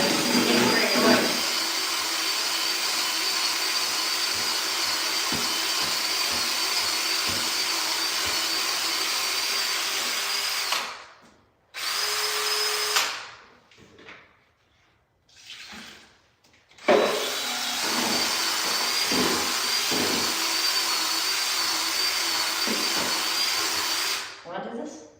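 A drill churns joint compound mud for wall texturing, a loud continuous whirring with gritty scraping that cuts out twice in short bursts before starting again and running steadily to the end.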